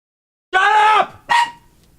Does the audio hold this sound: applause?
no